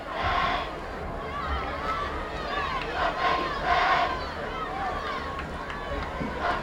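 A crowd roars and murmurs at a 1999 Friday-night high school football game between Pleasant Valley and Bettendorf, Iowa, a steady, swelling wash of spectator noise under a play-by-play announcer talking.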